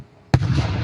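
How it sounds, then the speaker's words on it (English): A single Fourth of July firework bursts with a sudden loud boom that rolls into a crackling, sustained rumble lasting under a second, heard fairly close and without talk. "Fireworks are just amazing."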